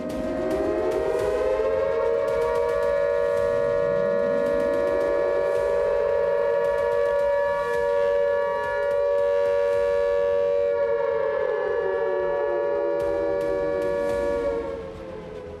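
A loud civil-defence siren wails continuously during a mock drill in India, its pitch rising and falling in repeated long sweeps over about fifteen seconds, with no voices present.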